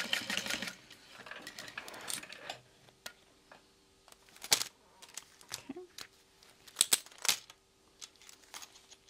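Sewing machine stitching through a zipper on a hip bag, with bursts of rapid mechanical clatter separated by pauses, close and fairly quiet, along with clicks and handling sounds.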